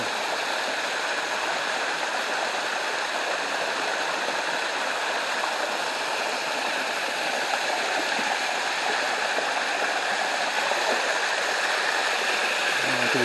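A hidden waterfall in the hills of Portland, Jamaica, rushing steadily and loudly with a constant broadband roar of falling water, unbroken and close for the whole stretch, no voices.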